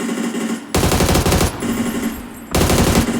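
Automatic rifle fire in the PUBG video game comes in two loud, rapid bursts separated by a short pause, with the gunshots close and dominant throughout.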